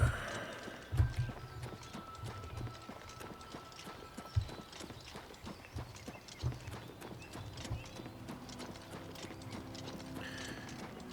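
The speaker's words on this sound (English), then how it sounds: "the daughter of the item shop owner just left her horse here" Horse hooves clip-clopping in The Elder Scrolls IV: Oblivion Remastered, a rhythmic run of close, distinct hoof strikes with a few heavier thuds, over a soft game ambience.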